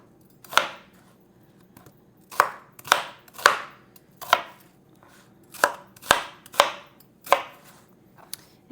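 A knife chops vegetables into chunks on a board with about nine sharp, close, distinct strikes at an uneven pace, separated by quiet gaps and with no talking.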